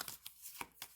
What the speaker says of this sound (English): So I'm going to shuffle this deck with my eyes closed